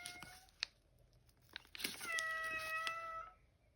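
A cat meows at home in the morning, a couple of short chirps followed by a longer, clear tonal meow, close and fairly soft against a quiet room.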